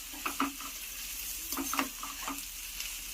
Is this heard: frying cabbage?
yes